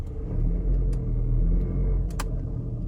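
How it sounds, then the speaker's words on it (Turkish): A Jeep Compass engine idling just after starting, a steady low rumble heard from close by, with a couple of brief clicks near the end. "Evet, şimdi araç çalıştı."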